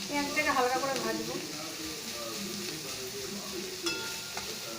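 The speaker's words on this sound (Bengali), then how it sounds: "পেঁয়াজটাকে হালকা করে ভাজবো।" Sliced onions frying lightly in a pan for a chicken curry: a soft, continuous sizzle with faint stirring, close and quiet, and a few tonal sounds near the start.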